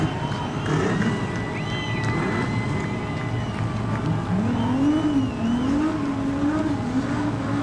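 Street stock race cars doing donuts at Redline Raceway during a national title A-main: engines drone and rev continuously, with wavering pitch and a tire-like squeal rising and falling, all heard over the constant track noise.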